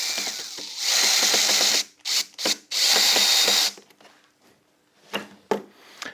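A power drill drives screws into a wooden plank while building a craft fair display stand, whirring in several short, loud bursts with ratcheting clicks and pauses between them.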